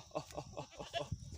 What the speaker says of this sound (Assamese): আৰু আছে এইফালে ছাগলী মোৰ, যিহেতু নেকি এইটো এতিয়া পানী খাব দিছোঁ।